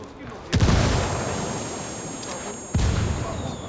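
Two heavy blasts of a frag grenade exploding in the tactical shooter Ghost Recon Wildlands, each a sudden loud boom with a long rumbling tail, the second arriving about two seconds after the first, over a steady high ambient whine.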